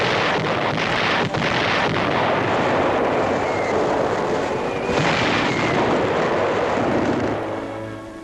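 American artillery fires on advancing German troops in World War II combat, a dense roar of booming blasts and rumble running steadily throughout, loud and close, with a few sharper reports standing out.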